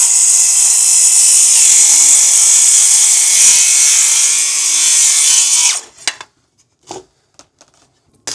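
Circular saw set to a 1.5 inch depth cutting wood for a barn gate, a loud sustained whining buzz for several seconds, then stopping abruptly, followed by a few scattered knocks and clatters.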